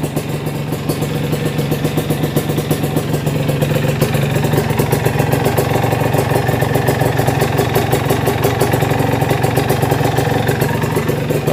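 Yamaha TZM motorcycle with a new aftermarket exhaust idling nearby, a steady, loud two-stroke putter and rattle running continuously throughout with no talk.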